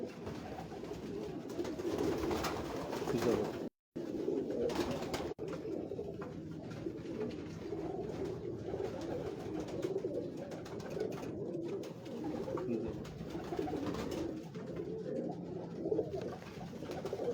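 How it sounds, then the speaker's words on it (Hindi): Pigeons coo steadily up close on a Lahore rooftop, a low, continuous murmur of soft calls with one brief pause partway through. "ये दूसरा कबूतर है"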